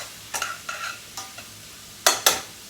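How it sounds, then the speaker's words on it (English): Sliced mushrooms sautéing over high heat for Italian wedding soup, a low sizzle broken by a few scraping stirs and two sharper clacks of short tongs in the pan, nearby and without speech. "So as we're sauteing the mushrooms, just kind of bust them up a little bit"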